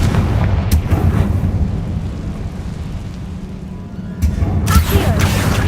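A fiery blast spell in the Hogwarts Legacy video game booms through a tomb, a loud rumbling roar that swells and rolls on with sharp cracks near the start and again toward the end.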